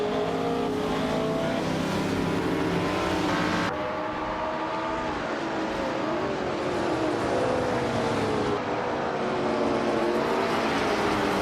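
Race cars, including a 1966 McLaren M1B, roar around Road America in a racing video game, a dense, continuous whine of several engines revving and shifting up close.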